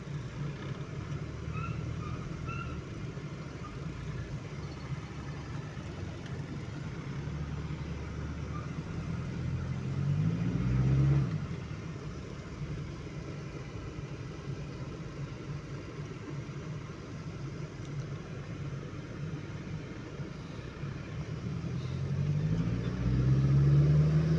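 A car engine idles steadily during a gearbox shift test after electrical repair work, a continuous low rumble that swells louder briefly around the middle and again toward the end.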